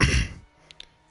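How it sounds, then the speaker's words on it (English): A person coughing and clearing their throat, one rough close burst followed by a couple of faint clicks of the mouth, then quiet. "sorry for a bit coughing"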